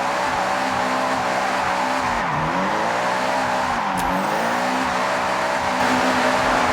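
A car in Forza Horizon 6 spins steady donuts with a loud, continuous tire squeal over a droning, revving engine whose pitch dips and recovers twice, close and sustained throughout.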